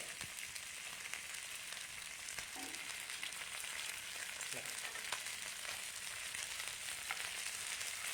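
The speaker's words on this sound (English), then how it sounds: "Keep on basting it. I'm using some melted Amul butter." Steady broadband sizzle of paneer frying while being basted with melted Amul butter on a gas stove, continuous and fairly close, with a few faint clicks and no talking.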